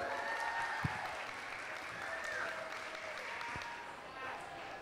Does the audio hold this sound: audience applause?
yes